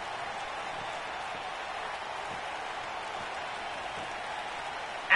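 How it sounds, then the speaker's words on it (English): Crowd at a wrestling show applauds for a wrestler, a steady, moderately distant wash of clapping and crowd noise that continues evenly throughout. "A big round of applause for Insanity."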